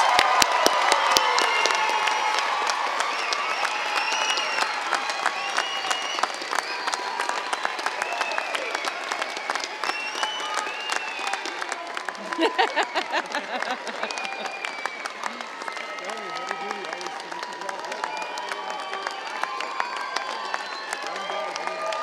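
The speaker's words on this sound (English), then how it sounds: "Let's give them a big round of applause." A large audience at a Red River College spring convocation breaks into sustained applause, dense clapping with scattered cheers and shouts filling the hall and continuing steadily throughout.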